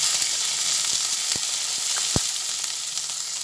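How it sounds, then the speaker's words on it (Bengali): Chopped onion frying in oil in a pan for masala cabbage fry, giving a continuous, close, even sizzle with a few sharp pops and ticks scattered through it. "এর মধ্যে পেঁয়াজ কুচিয়ে রেখেছি পেঁয়াজটা দিয়ে দিলাম"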